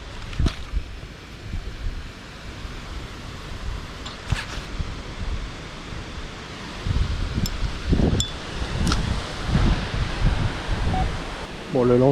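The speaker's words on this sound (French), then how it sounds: "Le vent se lève là comme il faut derrière." Wind gusts outdoors by the water during an autumn fishing outing in rain and wind, a continuous rushing noise that grows stronger toward the end, with occasional knocks and handling sounds and a voice speaking at times.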